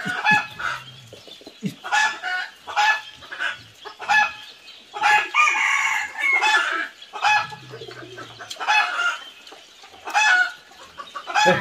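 Chickens on a rural farm cluck and squawk over and over at close range. Several birds call in overlapping bursts across the whole stretch, with a few louder cries among them.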